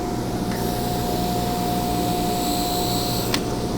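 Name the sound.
400 grit 3M flap wheel polishing pen part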